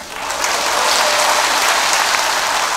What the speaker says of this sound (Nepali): अझै बजाइराख्नु भएको छैन साथीहरू ताली